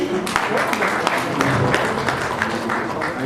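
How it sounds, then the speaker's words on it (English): Audience applause at an award ceremony in Tashkent, Uzbekistan: a steady wash of clapping from a crowd, moderately loud and continuous throughout, with faint voices mixed in underneath. "A round of applause for the gentleman."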